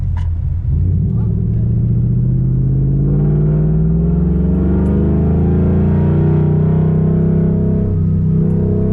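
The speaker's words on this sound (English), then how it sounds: "you hear this thing, you would think, oh, you know, it's a Mustang passing by" Ford car engine heard from inside while accelerating, a deep continuous rumble rising in pitch like a Mustang, loud and close throughout.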